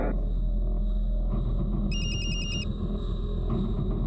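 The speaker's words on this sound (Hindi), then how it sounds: "हम उसके भैया को फ़ोन लगाए, पर फ़ोन लगा नहीं" A phone call rings out without connecting: a short electronic ring tone repeats in a brief burst over a steady background hum, with no voice answering.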